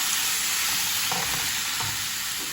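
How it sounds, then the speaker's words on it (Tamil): Tomatoes tipped into onions already sautéing in a hot pan, giving a continuous loud sizzle with a few stirring scrapes and clatters, no voices. "வெங்காயத்தை வதங்கிட்டு நான் இதுக்குள்ள இப்போ தக்காளி போட்டு போடுறேன்."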